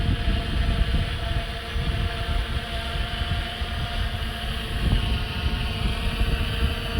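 A Fimi X8 SE drone descending to land, its steady, loud whirring rotor drone with a constant tonal hum sustained throughout and no voices.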